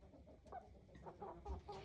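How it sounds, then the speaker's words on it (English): Three light Sussex hens in their coop give soft, irregular clucks and low murmurs, close by and fairly quiet, with no talking. "This is the light Sussex coop, and there are the 3 hens."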